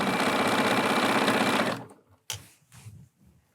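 A sewing machine stitching a fabric tube runs in a fast, steady whirring stitch for under two seconds, then stops, leaving a soft click and faint handling noises.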